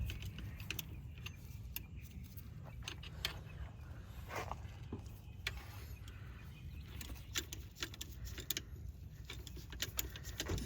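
Bolt being tightened on a 2014 Toyota Corolla during an alternator replacement, giving a run of close, quick metallic clicks and ratcheting ticks over a steady low background hum.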